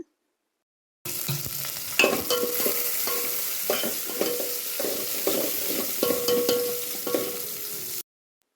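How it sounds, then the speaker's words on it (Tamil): Steady sizzling as onions, green chillies and curry leaves fry in a hot pan, with occasional scraping and stirring clatter, close and continuous for several seconds. "பச்சை மிளகாய், கருவேப்பிலை ஆட் பண்ணி நல்லா வதங்க விடுங்க"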